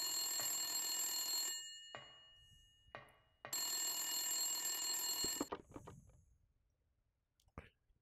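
Telephone ringing in the Silent Hill video game, a loud, shrill electronic ring in two long bursts separated by a short pause, then silence with faint voices near the end.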